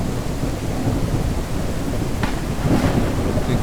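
A thunderstorm effect in stage design software plays as steady, dense rain with a low rolling rumble of thunder underneath, continuous and fairly loud, with no talking.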